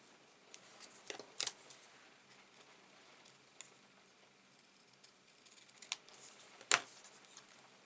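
Scissors snip paper for handmade cards, a few short crisp cuts scattered across a quiet room with small rustles and taps between them.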